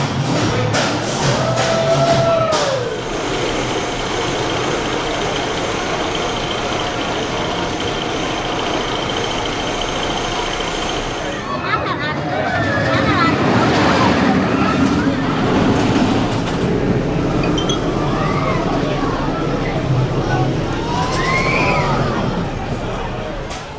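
Lightning Rod roller coaster train at Dollywood rumbling along its track, a steady loud mechanical roar with clatter swelling midway, riders' crowd noise and voices mixed in throughout.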